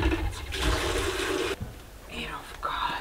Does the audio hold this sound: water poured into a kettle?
yes